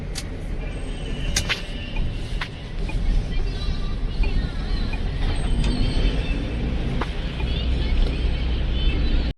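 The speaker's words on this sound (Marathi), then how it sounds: "traffic jam" Vehicles stuck in a traffic jam on a mountain road in Uttarakhand make a steady, dense roadway rumble, broken by a few sharp brake or horn bursts, with faint voices in the background.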